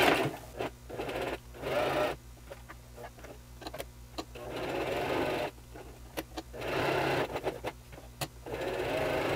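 A sewing machine topstitches a jacket lapel with a wide stitch, running in several steady motor bursts separated by short pauses and clicks, close and fairly loud.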